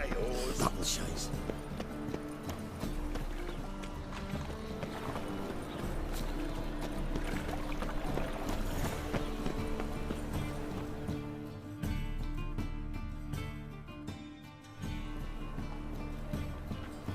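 Horse hooves clip-clopping at a run in The Witcher 3: Wild Hunt on PS4, a rhythmic galloping beat beneath game music and character dialogue.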